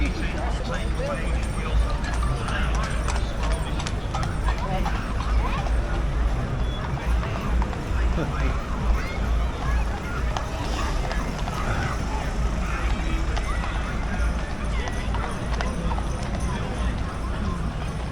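Horse hooves clip-clop along a busy Blackpool street by the illuminations carriages, a steady rhythmic clatter under crowd babble and people talking nearby.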